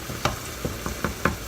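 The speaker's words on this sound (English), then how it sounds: "I'm chopping up all this hamburger meat really fine so it can be" Hamburger meat being chopped finely in a frying pan as it cooks: five sharp scraping taps of a utensil, spaced unevenly, over a steady close sizzle.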